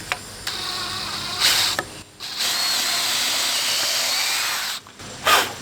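A power drill bores holes through a small drill bit guide block while metal stair stringers are built, giving short whirring bursts, then a long steady grinding run, stopping and briefly revving again.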